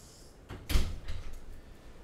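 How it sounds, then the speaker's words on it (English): A door is pushed shut with a muffled thump, followed by a couple of softer knocks and rattles as it settles, heard close by in a quiet room with no talking. "Let me close the door."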